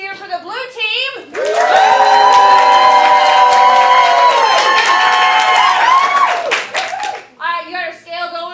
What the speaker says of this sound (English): So let's have a little cheer for the blue team.